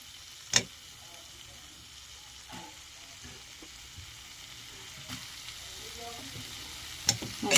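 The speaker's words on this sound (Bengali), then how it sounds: "শশাগুলোর সঙ্গে আলুগুলো ভালো করে আমি কষিয়ে নেব" Fried potatoes and cucumber pieces sauté in a pan with Kashmiri chili powder, making a faint, even sizzle punctuated by a few sharp spatula knocks.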